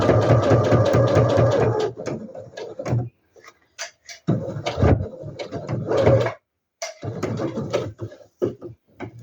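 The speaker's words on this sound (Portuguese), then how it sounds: "Inicio com o arremate. Vou até o final." A sewing machine stitches the seam of a fabric handbag with rapid mechanical clatter, running in several bursts broken by short stops and quiet gaps.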